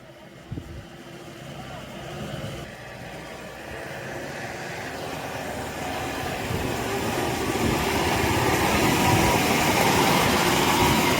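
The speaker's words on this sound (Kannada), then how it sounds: "ಜೀಪ್ ಬಂದ್ಬಿಡ್ಲಿರೋ." A jeep climbs along a hill road at Hosalli Gudda, its engine rumble swelling steadily louder as it draws near, with no one speaking.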